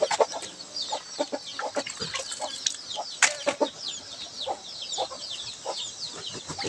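A flock of chickens clucks continuously at a rural hillside yard, many overlapping short calls at close to middle distance, busy and irregular with no talking.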